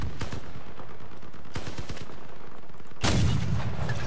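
Cannon fire in the Crossout vehicle combat game during PvP battle: sharp, loud gunshot-like blasts, a burst of rapid cracks near the start, another around mid-clip, and a heavy broadband boom near the end with rumbling tail.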